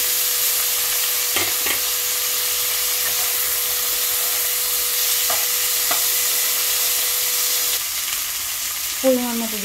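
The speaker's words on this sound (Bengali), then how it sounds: "পেঁয়াজটা একটু হালকা ভাজা করে এবার আমি কেটে রাখা সবজিগুলোকে দিয়ে দিলাম।" Chopped vegetables sizzle steadily in a pan on top of lightly fried onion, nigella seeds and green chillies, a close, continuous frying hiss broken by a few soft utensil clicks and stirring scrapes.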